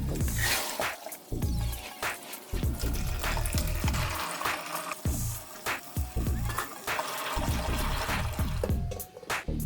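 Soaked red beans being washed and rinsed in water for a sweet red bean dessert soup, with continuous splashing, sloshing and dripping, close and fairly loud throughout, broken by repeated lower knocks and swishes as the beans are rubbed by hand.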